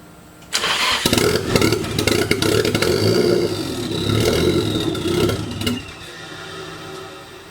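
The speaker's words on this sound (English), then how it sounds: "The car starts, it runs for a little bit" A car engine catches after a cranking start and runs steadily for several seconds at fairly close range before cutting out, the car being tested after a fuel relay was plugged in.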